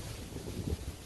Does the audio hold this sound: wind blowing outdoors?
yes